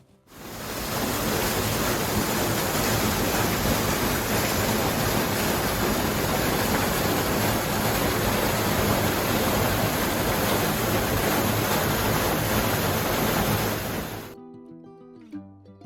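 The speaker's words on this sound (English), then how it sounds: "it was all powered by this little waterfall known as Falling Spring" A small waterfall called Falling Spring, which once powered a mill in the Mark Twain National Forest, roars with a steady, loud, broadband rush of falling water for about fourteen seconds before cutting off abruptly.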